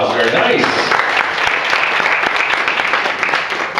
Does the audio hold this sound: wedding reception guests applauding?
yes